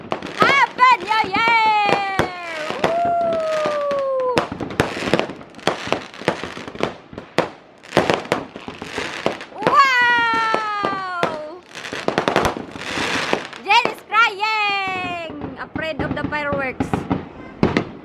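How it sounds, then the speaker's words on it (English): New Year fireworks and firecrackers, with rapid popping bursts, crackles and whistling rockets rising and falling throughout, loud and fairly close, while people talk and call out over them. "we're watching fireworks upstairs"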